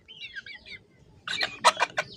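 Chickens clucking in a short burst of several close, sharp clucks, after a moment of faint high chirping.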